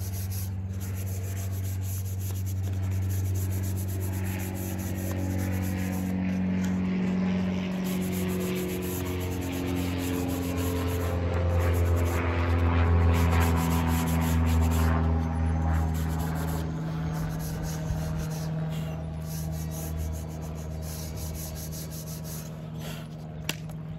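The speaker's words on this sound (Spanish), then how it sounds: "Vamos a darle una lijadita con una lija fina. Yo estoy utilizando la lija del número 200." Fine 200-grit sandpaper rubbed by hand along the bar of a concrete stool to clean off concrete stains: a continuous, close, rhythmic scratchy rubbing that runs steadily for the whole stretch.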